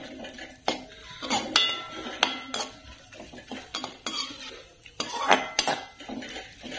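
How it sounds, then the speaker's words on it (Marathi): Almonds and cashews stirred in melted ghee in a pan over medium heat, with a spoon scraping and clinking against the metal in a steady, close run of strokes and no talking. "आता हे तूप चांगलं वितळलंय, आपण घालूया बदाम, त्याचसोबत काजू आणि परतून घेऊया।"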